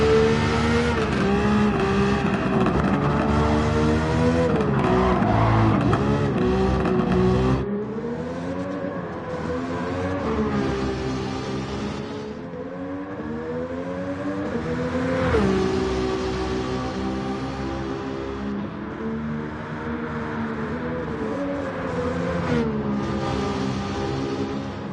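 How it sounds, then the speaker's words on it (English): A Nissan Skyline R34 GT-R V-Spec II Nür '02 races a time trial in Gran Turismo 7, its engine howling loud and close, rising in pitch and dropping sharply at repeated gear shifts, with no speech. "Different angles show you how fast the car is moving on the"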